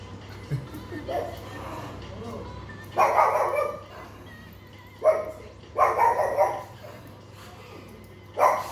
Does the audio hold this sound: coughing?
no